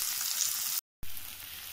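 A spice paste of ginger, chopped tomato and ground cumin sizzles in hot oil, a steady close hiss broken by a brief gap of silence partway through.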